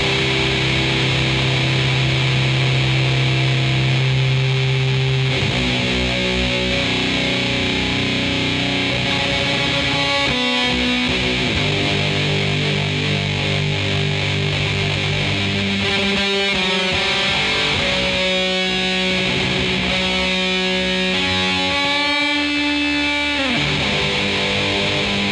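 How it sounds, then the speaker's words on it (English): A dense wall of distorted, effects-laden noise opens the track, a loud continuous roar with shifting tones sustained throughout without a break. "it starts out with like a big wave of distortion."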